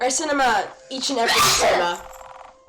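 A single sharp sneeze bursts out between stretches of a person talking, loud and close.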